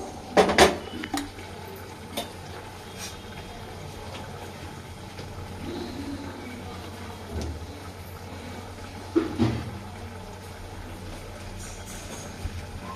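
Pot with water set on a stove, a few loud metallic clanks and knocks at the start and again later, separated by a quiet background hum, no talking.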